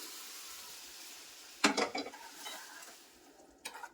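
Cooked toor dal goes into a fried tempering in a pan for fenugreek-leaf dal. A soft sizzle runs underneath while a spoon scrapes and stirs in a few short bursts, close and fairly quiet.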